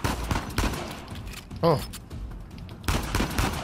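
Gunfire in a shootout in the video game Uncharted 4, bursts of rapid shots and impacts with a clank in between, up close, with a voice exclaiming briefly.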